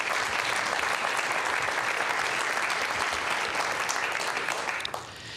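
Sustained, even audience applause fills a conference hall at a health equity meeting, a dense wash of clapping that holds steady before tapering off at the end.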